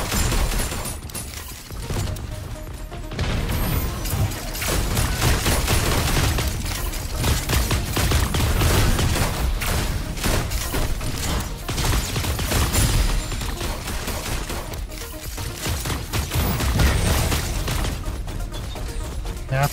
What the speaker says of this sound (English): That guy tried hitting me with a grenade.